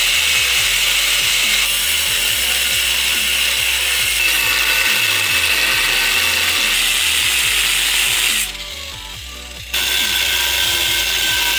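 A bolt is worked loose on the front brake assembly of a Cummins truck, with a loud, close, continuous mechanical whirring and rapid rhythmic ratcheting pulses that briefly drop out near the end before resuming.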